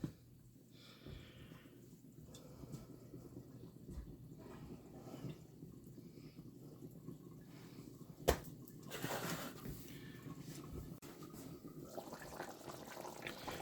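Trinidadian chicken curry simmers in a pot with soft, steady bubbling, broken near the middle by a single sharper clink.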